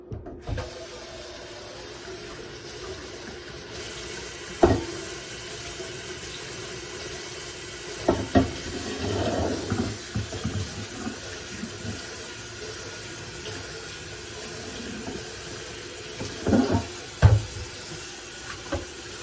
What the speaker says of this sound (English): All you need to do is get your pan with some water.